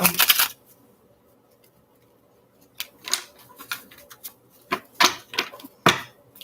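Tarot cards are shuffled in several quick riffles and taps, crisp close-up flutters separated by quiet pauses, with a longer silent gap near the start.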